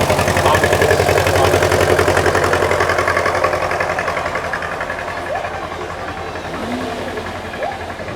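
The diesel engine of a Lamborghini tractor chugs nearby at a supercar weekend event, a steady rhythmic idle that is loudest at first and eases slightly, with faint voices and other noises from the show ground underneath.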